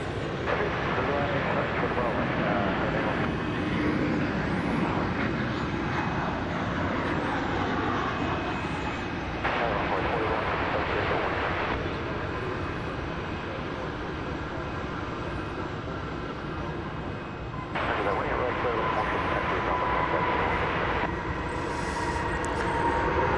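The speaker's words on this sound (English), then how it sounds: "As we now turn our attention to the flight from Guadalajara. Right here on Runway DFW." A passenger airplane on the flight from Guadalajara moves along the runway at DFW Airport, giving a steady, loud, broadband engine roar that holds throughout with only slight swells.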